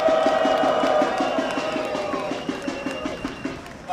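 A crowd at a forestry and farmers' protest outside the Cabinet of Ministers claps and cheers, with rhythmic clapping that fades over a few seconds while voices mingle in.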